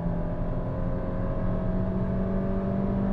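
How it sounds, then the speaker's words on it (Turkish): A Kia Stonic accelerates at full throttle, its engine droning steadily with a rising whir and tonal hum heard from inside the cabin, with no voices. "Dip gaz yaptım. 6000'lerde vites değiştirecek şekilde gaza bastım."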